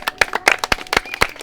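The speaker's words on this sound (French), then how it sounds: "on s'applaudit" A small group claps in a celebration, giving sparse, uneven claps close by, with a handful of distinct hand strikes rather than a full ovation.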